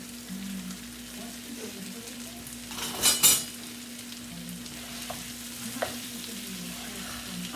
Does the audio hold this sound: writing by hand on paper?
no